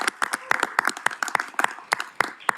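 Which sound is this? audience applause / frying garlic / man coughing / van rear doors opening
audience applause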